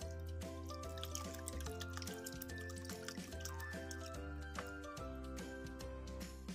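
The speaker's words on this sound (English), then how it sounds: "open bottle and pouring the water into the plastic box" Water pours from a bottle into a plastic box, trickling and splashing with small drips over a background of faint music in a classroom setting.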